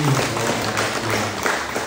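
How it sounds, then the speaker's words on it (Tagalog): A wedding gathering breaks into applause to welcome a newlywed couple, a short burst of clapping from a nearby crowd with low murmuring voices underneath. "I-welcome sa masipag palakpak ang bagong magtiayon"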